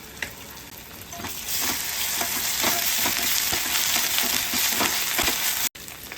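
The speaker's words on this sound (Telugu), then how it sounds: "1 స్పూన్ అల్లం వెల్లుల్లిపాయ పేస్ట్ వేసి పచ్చివాసన పోయేంత వరకు వేయించాలి" Ginger garlic paste fries in a pan, a loud close sizzle that swells after the first second and keeps going with repeated scraping stirs, then cuts off abruptly near the end.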